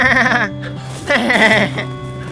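Sheep bleat during shearing, a couple of wavering, close, loud calls with a short gap between them.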